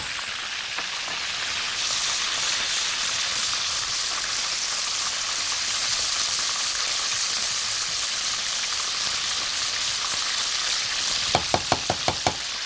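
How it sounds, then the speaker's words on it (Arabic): Cooking cream for a cheese sauce heats in a pan with a constant soft sizzling hiss throughout, ending in a few sharp taps near the close, with no voices. "كريمه الطهي بدات تسخن معايا"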